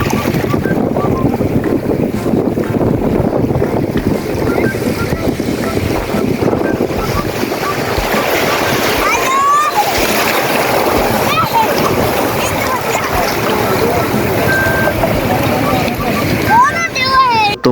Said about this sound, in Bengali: তোমাদের রিয়ালিটিটা একটু দেখালাম যে ঢেউয়ের সাউন্ডটা কতটা সুন্দর লাগে